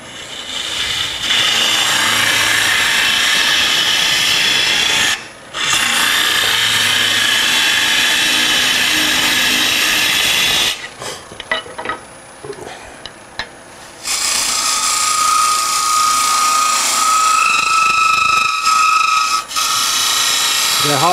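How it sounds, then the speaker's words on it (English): A hand tool cuts into thin wood on a tri-cornered box, making a steady, loud rasping scrape that runs in long strokes broken by brief pauses, with a quieter stretch in the middle. "Sound is the wood getting thin."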